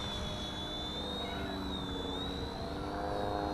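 A WLtoys V931 RC helicopter flying 3D maneuvers gives off a continuous high motor whine that wavers in pitch as it moves, with a steady rotor hum underneath and no talking.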